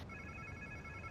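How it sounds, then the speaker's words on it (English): Phone ringing in the video game Marvel's Spider-Man 2, a steady electronic ring running through the whole short clip over a low ambient background, with no talking. "Sounds like somebody's phone."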